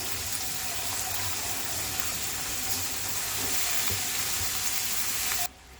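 Cabbage, washed in hot salted water, hits a hot pan for an Andhra village-style cabbage curry, giving a loud, steady sizzle and crackle of frying that runs throughout and then cuts off abruptly at the end.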